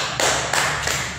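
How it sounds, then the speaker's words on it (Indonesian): A church congregation claps hands in praise during a Thursday discipleship gathering, a dense continuous wash of clapping with a few louder swells, loud and close throughout. "Kita berikan dulu tepuk tangan bagi Tuhan."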